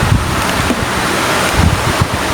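A repaired electric fan runs at high speed, a loud continuous rush of air with gusty buffeting against the microphone and a low rumbling undertone.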